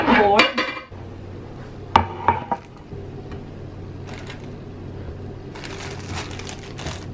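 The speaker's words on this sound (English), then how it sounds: "Grab my cutting board." A cutting board is picked up and set down hard on a home kitchen counter with vegetables ready, making a couple of clattering knocks. Lighter rattles and taps follow over a quiet room hum.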